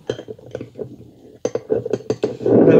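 A spoon clinks against dishes and a pot during a messy food-tasting challenge: a run of sharp, close metallic taps, with a louder scraping rustle at the end.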